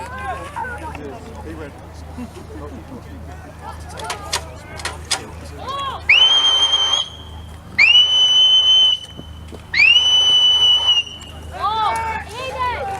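Sharp whistle blasts signal the end of an exercise at an outdoor wartime re-enactment event, three long piercing blows after a few short chirps, loud over a background of crowd chatter and talk.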